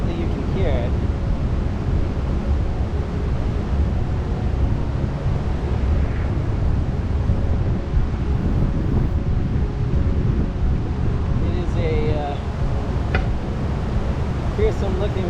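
A river rushes steadily below a velomobile on a cycle path through the Eisack valley, a broad continuous roar heavily mixed with buffeting wind noise on the microphone, with occasional faint mechanical clicks.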